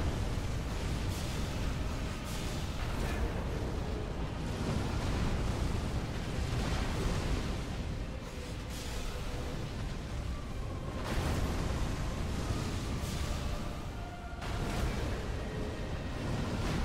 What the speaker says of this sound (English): It's just fire explosion